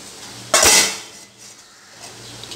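A lid set on a cooking pot with a brief metallic clank and clatter, close and clear, then a quiet room hum with a faint scrape afterward, no talk.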